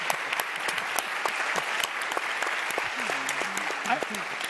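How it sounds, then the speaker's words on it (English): Steady applause from an audience, dense clapping throughout with a low murmur of voices underneath. "I just want to make sure Khalil gets his applause as well"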